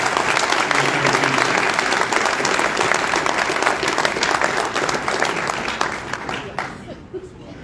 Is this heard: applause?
yes